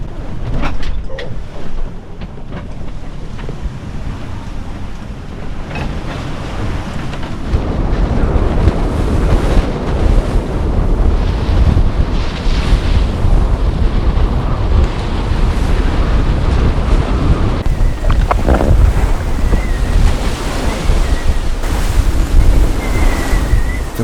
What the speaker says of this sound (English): It's taking its toll on the body in these waves.